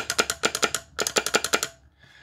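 A single-channel PTT foot switch clicks in two quick bursts of about six sharp, regular clicks each, loud and close, with a brief pause between the bursts.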